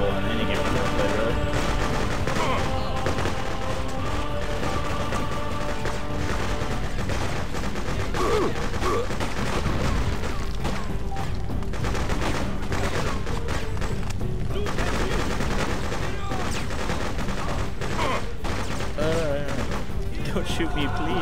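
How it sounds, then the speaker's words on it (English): Shotgun and other gunfire in the video game Freedom Fighters, heard as steady dense shooting and explosions throughout, with someone talking over the action. "that shotgun's doing so much damage at the range"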